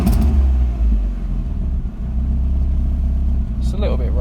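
A rebuilt ZR car engine runs at roughly 950 RPM, a steady, slightly rough mid-pitched idle that stays close and continuous, with someone talking over it.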